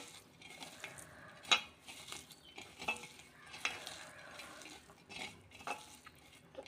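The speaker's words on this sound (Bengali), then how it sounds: "এখন আমি এখানে রসুন পেঁয়াজ এটাতে ভালো করে মাখিয়ে নেব" Garlic and onion being mixed by hand into mashed green onion bhorta, soft irregular squishing and stirring with occasional faint clinks against a dish, quiet and close with no talk.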